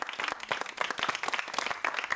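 A classroom group gives a round of applause, dense overlapping hand claps filling the room at steady loudness, with no talking over it.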